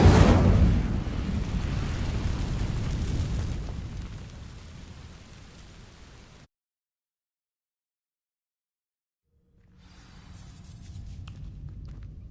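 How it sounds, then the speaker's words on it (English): Incendio fire spell igniting dry vines in Hogwarts Legacy, a loud whooshing burst that settles into a roaring, crackling blaze, fades, cuts to silence, then a faint rustle returns. "These dry vines are one spark away from becoming kindling. Incendio!"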